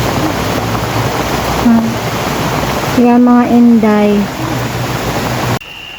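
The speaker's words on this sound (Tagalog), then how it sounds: "Medyo malakas na yung ulan pero wala pa rin hangin." Steady heavy rain during a typhoon hisses as a dense, constant wash with little wind, with a person talking briefly over it near the middle.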